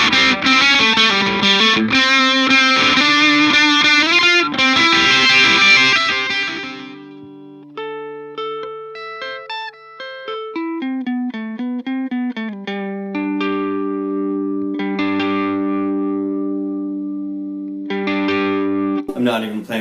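Distorted electric guitar through a Seymour Duncan Nazgul bridge pickup, volume and tone at full, plays a dense, loud chugging riff, then sustained single notes and bends with ringing tails, with brief bursts of strummed chords.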